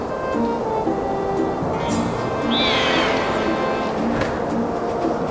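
Loftwing bird in Zelda Skyward Sword lets out a single rising, warbling call midway, heard over a steady rush of wind and soft game music.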